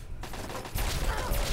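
A short burst of assault rifle fire in Fallout 3 erupts after a quieter moment, loud and close, with rapid overlapping shots.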